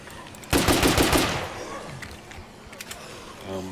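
Unsilenced gunfire in a Walking Dead video game mod: a loud, rapid burst of shots early on that trails off into quieter in-game ambience with scattered faint thumps.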